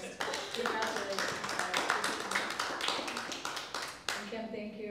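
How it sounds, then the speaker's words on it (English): An audience at a high school panel event applauds the kids' panel, a dense, steady patter of many hands clapping throughout, ending with a brief voice. "should we applaud these kids though first?"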